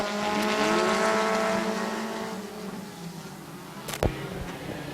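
Stock cars race past at Midvale Speedway, their engines whining as rising and falling pitched tones that fade into the distance, followed by a sharp nearby bang and further engine drone.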